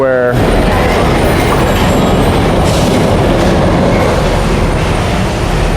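Carts roll past continuously at a busy, crowded place, producing a loud, steady rumbling and clattering wash of wheel noise close by, with a brief sound at the start.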